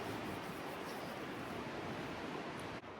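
Wind blows across an open stretch of coast, a faint, steady, broadband rush of gusting noise with no other clear sounds.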